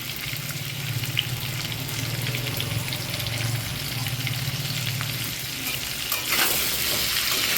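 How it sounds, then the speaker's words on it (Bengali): Potatoes fry in hot oil with salt and turmeric for a cabbage dish, giving a continuous close sizzle with a low bubbling undertone and an occasional soft stir toward the end, no talking. "বাঁধাকপি রান্নায় আলুটা ভেজে নিই আলাদা করে, নুন হলুদ দিয়ে ভেজে নিই।"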